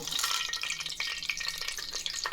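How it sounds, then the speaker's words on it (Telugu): Whole garam masala spices dropped into hot oil and ghee: a close, bright crackling sizzle with quick pops and spits, steady for a couple of seconds. "ఆయిల్ నెయ్యి వేడెక్కింది. ఇప్పుడు హోల్ గరం మసాలా యాడ్ చేసుకుంటాము."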